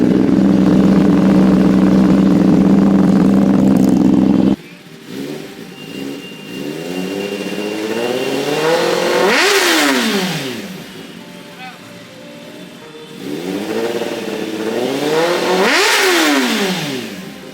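A superbike engine idles with a deep exhaust bass, rising in two slow swells of revving after a louder opening stretch, close and strong.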